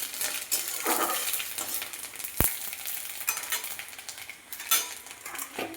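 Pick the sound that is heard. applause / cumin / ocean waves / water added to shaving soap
cumin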